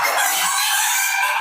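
Chickens awaiting vaccination cluck and crow loudly and continuously at close range, a steady dense flock chorus with no pauses.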